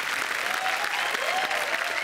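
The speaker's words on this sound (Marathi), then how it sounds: "जोरदार टाळ्या केतकी थत्ते यांच्यासाठी झाल्या पाहिजेत" Hearty applause for Ketaki Thatte fills a television comedy stage, the many hands of a seated audience clapping in a thick, continuous wash with no pause.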